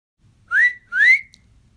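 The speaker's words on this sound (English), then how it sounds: "He heard the loud whistle again." Two loud, sharp whistle blasts from a lifeguard at a swimming pool, each about a quarter second long with a short gap between, clear and close with no talking.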